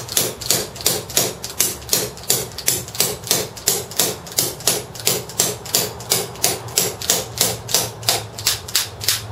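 A Marushin Derringer gas airsoft pistol is fired over and over in a steady, even rhythm, each sharp crack following quickly after the last with no talking.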